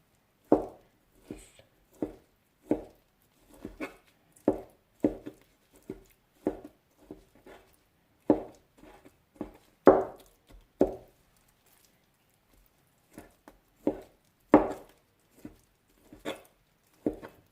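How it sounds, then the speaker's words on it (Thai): Knife chopping half a kilo of fresh raw salmon flesh for Lao-style fermented fish, a steady series of close, wet thuds on a cutting board with brief pauses between bursts. "เรามาหั่น เนื้อปลาแซลมอน หั่น หั่นหั่นเสร็จแล้วนะคะ หั่นเสร็จแล้วก็สับสับค่ะ"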